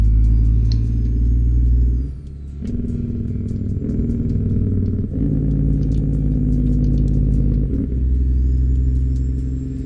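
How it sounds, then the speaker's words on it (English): A heavy truck's jake brake in American Truck Simulator, pulling a trailer combo, gives a loud, steady rumbling engine drone that briefly drops and then resumes in several long sustained stretches, close and dominant with no talking. "the best jake brake sound I've ever heard in American Truck Simulator"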